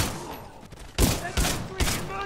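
Gunfire in Titanfall 2 with three loud, sharp bursts about half a second apart after a quieter stretch of game noise.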